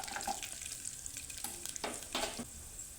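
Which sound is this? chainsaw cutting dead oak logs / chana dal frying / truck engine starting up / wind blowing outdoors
chana dal frying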